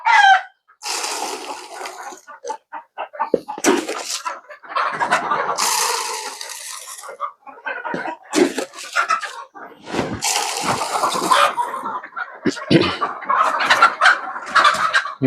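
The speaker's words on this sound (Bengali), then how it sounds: "এটা কি আপনার ফার্মি মুরগির একটি শেড না" Farm chickens in a poultry shed clucking and squawking close by in irregular bursts, some loud and overlapping, with short quiet gaps between outbursts.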